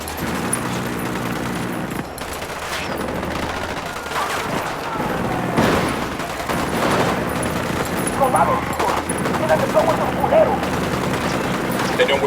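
Heavy automatic gunfire in Ghost Recon Wildlands during a cartel assault, dense overlapping bursts and booms filling the scene at close range, with voices talking over the shooting.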